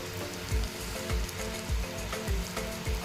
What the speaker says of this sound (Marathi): लसूण टाकलेला आहे त्याच्यामध्ये मस्त परतला आहे